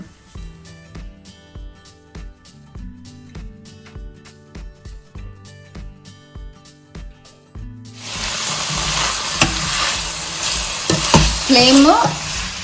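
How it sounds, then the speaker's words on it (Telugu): Ginger, garlic, green chillies, onions and sliced bell peppers stir-fried fast over high heat for dragon chicken; music plays first, then a loud, dense sizzle with clattering stirs takes over for the last few seconds. "స్లైస్ చేసుకున్న బెల్ పెప్పర్స్ వేసుకొని ఫ్రై చేసుకుందాం"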